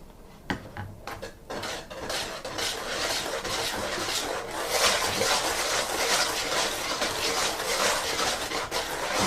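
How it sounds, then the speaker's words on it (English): Lemon cake batter whisked by hand in a bowl, a steady scraping and clinking of the whisk against the bowl, fairly close and continuous, with a few sharper taps near the start, no voices. "Just going to whisk that on in here."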